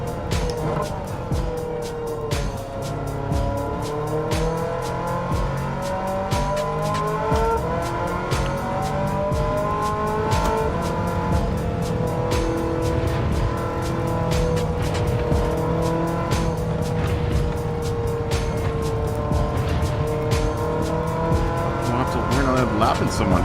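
A racing car engine in Gran Turismo 7 drones steadily with a rising and falling exhaust note as gears change, loud and continuous throughout.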